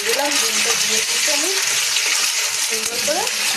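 An egg fries in salted oil in a pan while a dal-style curry is being cooked, a continuous close crackling sizzle with soft tonal sounds drifting over it.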